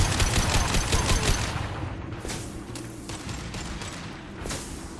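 Rapid bursts of gunfire from the video game Mass Effect 2 rattle out in quick volleys, loud and close at first, then thinning into sparser shots and a few sharp cracks.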